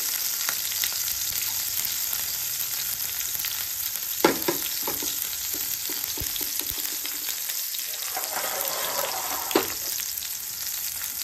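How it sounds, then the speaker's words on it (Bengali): Mustard seeds and green chillies sizzle and crackle in hot oil with a continuous close frying hiss and a few sharper pops and stirring clatters. "সর্ষে চিটপিট করে উঠবে, তখন দিয়ে দেবো এতে লঙ্কা"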